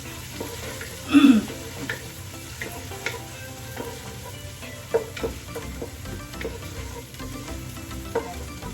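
Onions and softened jackfruit are sautéed in a pan, with a steady low sizzle and occasional stirring scrapes, plus a louder clatter near the start; no speech.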